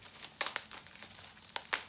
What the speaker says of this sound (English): the next thing that I'm pulling out is wrapped in bubble wrap